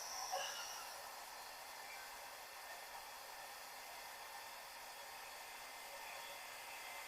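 A hair dryer set on low blows steadily over a faux stone canvas painting, a faint, even airy hiss lasting the whole time with no talking.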